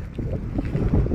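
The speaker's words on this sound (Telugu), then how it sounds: "విజృంభణ అంటే విజృంభణ, దానికి తోడు ఈ గాలి." Strong wind buffets a microphone during a bicycle ride on a road in India, making a loud, constant low rumble and roar with no speech.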